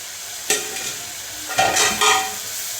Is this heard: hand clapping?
no